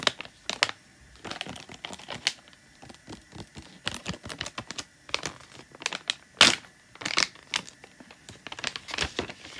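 Packaging of a Techlin Power Mist Wild Watermelon is unboxed up close, with sharp crinkles, tears and tapping rustles arriving in irregular bursts, loud and intimate with no talking.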